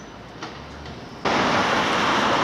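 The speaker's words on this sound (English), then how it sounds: "as a train pulls in" Train on the Knockholt to Otford route rolling into a station, a steady broadband rumble and hiss that swells suddenly partway through and stays loud and close.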